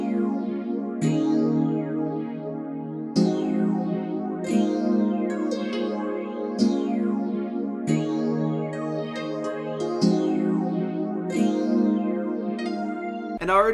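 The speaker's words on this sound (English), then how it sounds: "So I got my little chord progression laid out." A chord progression programmed in FL Studio plays as sustained synth chords that change every second or two in a steady loop, with bright plucky echoing overtones. It is clear and fairly loud, with no talk over it.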